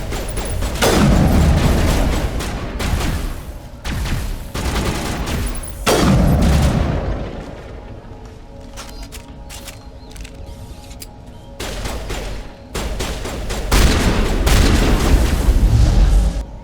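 Repeated gunfire and booming blasts from a firefight in the video game Mass Effect, with loud volleys in bursts and quieter mechanical clatter between them.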